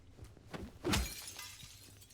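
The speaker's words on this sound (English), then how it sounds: "You can tell when I find a car because you just hear 5 glass breaks." A single glass shatter rings out as a car window breaks in Silent Hill 2. It is a sharp, brief burst over a quiet ambient background, with no talk.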